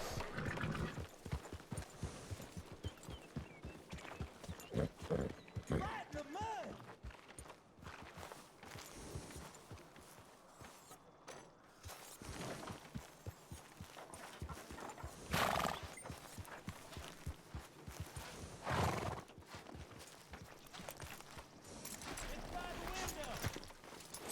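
Horse hooves clip-clop steadily with a neigh or whinny in a Western-themed video game, close and fairly loud over the whole stretch, with a player talking over the hoofbeats at times.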